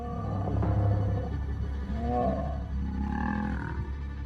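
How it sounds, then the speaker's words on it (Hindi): Lions of the Sabi Sand fight, giving deep, drawn-out roars and growls that swell and fade over a low rumbling background. "दूसरे शेर पर हमला करते वक्त किंकी टेल भी दहाड़ रहा था।"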